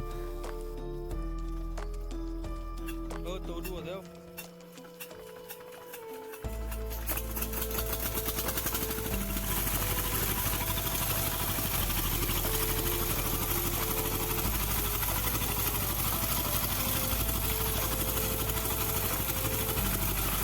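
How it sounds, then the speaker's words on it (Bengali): A repaired engine starts and settles into a steady, loud mechanical running drone that continues without a break, with a brief dip in level just before it picks up to full, even running. "তো এখন স্টার্টটি দিয়ে দেখে নিই ইঞ্জিনের কি পরিস্থিতি রয়েছে"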